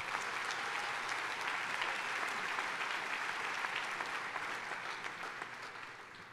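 A church congregation applauds during a Spanish-language sermon, with dense, steady clapping that holds loud and then fades slightly toward the end.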